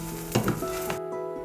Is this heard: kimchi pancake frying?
yes